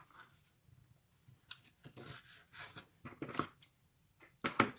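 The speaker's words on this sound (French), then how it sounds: "Les bons ciseaux." Scissors snip through paper in quick, close, sharp cuts while making a double Z-fold card, separated by brief quiet gaps and soft handling noise.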